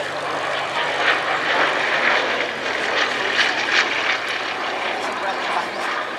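Military aircraft from the two Wattisham squadrons in Suffolk, including 105 Squadron, fly at the RAF Cosford Airshow, their engines a steady, loud roar throughout, with a commentator's voice over the public address.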